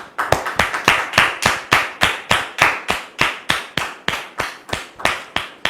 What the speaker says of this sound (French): nous recevons maintenant le pasteur Jacques sous vos applaudissements.